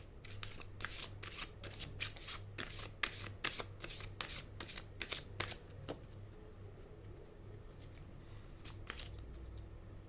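Tarot cards are shuffled by hand in a quick run of crisp riffling snaps, close and quiet, thinning out toward the end with a last few flicks.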